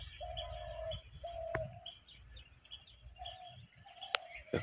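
Pet pigeons cooing in a loft in the morning, several soft low coos repeated in a loose rhythm, with faint chirps and a few sharp clicks in a quiet setting, no talking.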